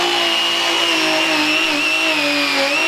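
A hammer drill fitted with a nylon brush spins at high speed, scrubbing debris from the underside of a large desk. It makes a loud, steady, close-up whine with a slight wavering pitch and runs continuously, with no talk.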